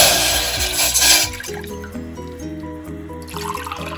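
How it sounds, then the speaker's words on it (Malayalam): Water poured from a height into a saucepan to make tea, a steady liquid splash and trickle that fades after the first second, with faint clinks and a soft background hum. "അപ്പം ഞാൻ ഈ ഒരു സോസ്പാനിലോട്ട് ഞാൻ 2 കപ്പ്"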